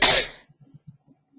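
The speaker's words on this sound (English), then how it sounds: "I'm sorry I coughed in your ear." A single sharp cough lands close into the microphone, loud and brief, followed by faint low murmurs.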